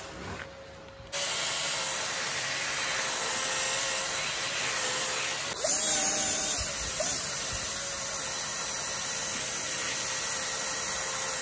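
Vacuum cleaner working over a textile floor mat, a loud steady roaring hiss that starts up abruptly and runs continuously, with a brief shift in tone partway through.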